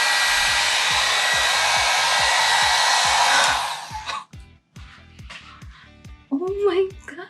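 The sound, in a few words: blowout brush hair dryer styling hair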